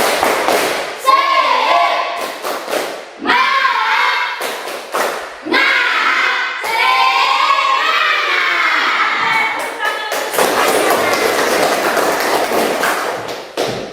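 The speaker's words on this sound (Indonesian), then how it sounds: "Tepuk semangat." A classroom of students performs a rhythmic spirit clap, loud bursts of clapping and thumping in quick patterned groups, mixed with children shouting and cheering voices throughout.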